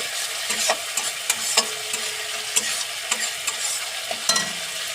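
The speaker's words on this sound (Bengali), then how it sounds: "মশলা কষানো প্রায় শেষের দিকে।" Spice masala frying in a pan as it is stirred, a continuous sizzle broken by repeated short scraping strokes of a spoon, heard up close with no voices.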